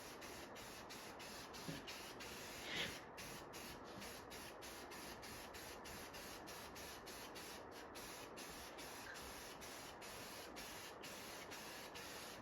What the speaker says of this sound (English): you have to spray it more than one direction